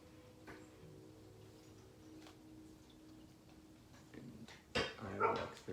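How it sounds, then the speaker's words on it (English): A dog barks in Zelda: Ocarina of Time, faint and game-generated, a few sharp yelps near the end over a low, steady ticking background hum. "That's the dog."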